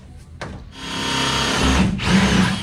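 A power drill spins up and bores into a bracket on a race car under construction, a loud close whine that starts after a brief tap and runs steadily, dipping once before continuing.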